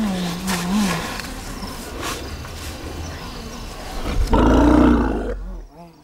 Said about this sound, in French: C'est le ronronnement de l'éléphant. Ça ressemble plutôt à un rugissement de lion, mais c'est quand même un éléphant.